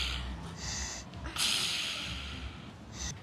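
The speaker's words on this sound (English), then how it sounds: "You do a nose sniff and then a..." A person makes a few sharp nasal sniffs and snorts up close, with breathy air bursts separated by short pauses.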